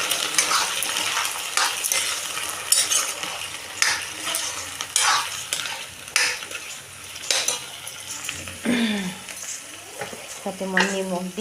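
Taro pieces are stir-fried with chickpeas in a home kitchen, giving a steady close sizzle with repeated scraping and stirring of a utensil against the pan, and a few brief voice-like tones near the end.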